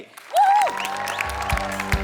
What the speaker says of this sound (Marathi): एकदा जोरदार टाळ्या झाल्या पाहिजे त्यांच्यासाठी.